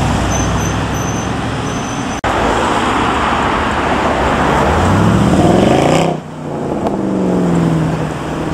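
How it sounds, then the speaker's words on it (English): A Mercedes G63 AMG drives past a supermarket car park amid steady road traffic, its engine note swelling and sweeping through the pass, then fading as another vehicle follows. "Check this out, followed by the G63 AMG."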